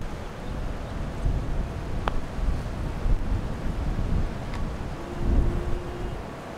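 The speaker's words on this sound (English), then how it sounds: "That's how bad the wind is blowing." Strong gusty wind buffets the microphone on a golf course with sand bunkers, a steady roar with louder surges and low rumbling throughout, no talking.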